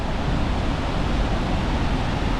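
Koosah and Sahalie Falls in Oregon, steady broadband rush of falling, flowing water, constant and loud without any break, with no voices.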